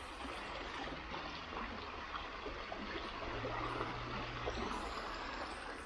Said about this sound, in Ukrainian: Шум води, природа, свіже повітря.